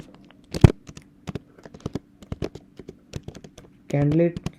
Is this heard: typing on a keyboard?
yes